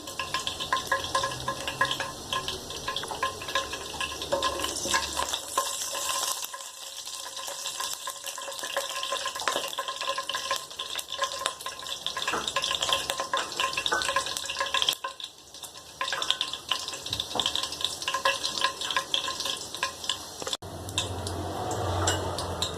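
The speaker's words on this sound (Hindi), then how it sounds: "खुशबू आने तक इनको फ्राई करेंगे।" Whole cloves and cardamom frying in a pan for zarda, a steady close sizzle with frequent clinks and scrapes of a spoon stirring, sustained throughout with no talking.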